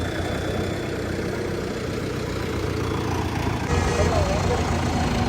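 A Sonalika RX 60 tractor engine idles steadily nearby, a continuous low rumble that grows slightly louder toward the end.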